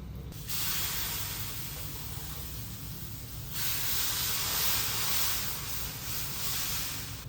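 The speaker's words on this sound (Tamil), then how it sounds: "இப்போ நம்ம ஒரு டேபிள் ஸ்பூன் எண்ணெய் ஊற்றிக்கோங்க ஊற்றிட்டு நம்ம எடுத்து வச்சுருக்கிற பெருங்காயத்தை இதில் நம்ம பொறிச்சு எடுத்துக்கலாம்" Asafoetida frying in a tablespoon of hot oil in a pan while drumstick leaf powder is prepared: a continuous, loud sizzling hiss that drops briefly, then surges again and holds, with no speech over it.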